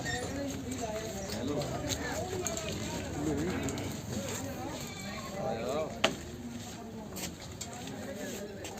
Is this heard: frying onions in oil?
no